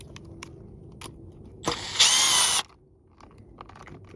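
Screws come out of the clutch cover of a Husqvarna 540xp chainsaw with one loud, close burst of ratcheting, whirring tool noise lasting under a second, set between quiet clicks and handling sounds.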